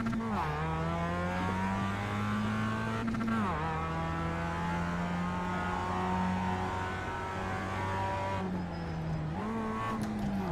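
Race car engine in the iRacing sim at Sonoma Raceway, a loud sustained drone with steady harmonic tones that dip and climb through gear changes and revs, running the whole time with no talking.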